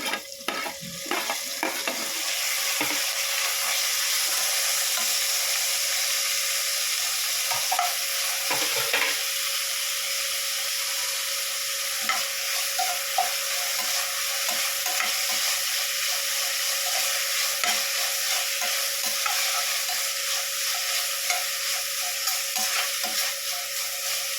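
Mint leaves fry in oil in a pot for white pulao, making a loud, steady sizzle with a scattering of clinks and scrapes from stirring.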